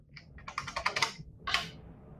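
Someone types a short command on a computer keyboard, a quick burst of close, crisp key clicks followed by a brief pause and a final louder keystroke like pressing enter.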